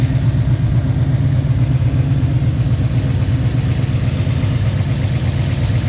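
A car engine idles steadily up close, a smooth low rumble with an even, unbroken pulse throughout.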